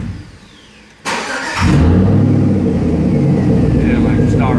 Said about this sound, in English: it didn't like to start, and then it starts